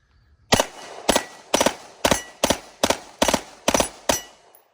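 A Beretta M93R machine pistol firing a string of about eight sharp, loud, close bursts in an even rhythm, each burst a quick cluster of shots followed by a short pause, with no talking.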